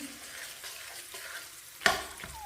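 Crushed dry fruits, kachri and edible gum roasting in a hot pan, with faint, quiet sizzling and stirring and one sharp scrape of a spoon against the pan.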